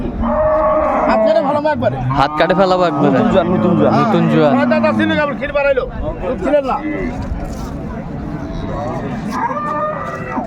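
Cattle at a cow and calf market in Dinajpur low repeatedly with several loud, close moos, while people talk and a crowd murmurs in the background.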